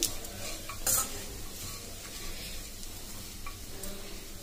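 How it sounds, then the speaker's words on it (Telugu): A spoon scrapes and stirs grated coconut in a pan over a soft sizzle, with a few sharp metallic clinks near the start. "ఇప్పుడు ఇదంతా వేసిన తర్వాత ఒకసారి కలుపుకొని పెట్టుకుందాము"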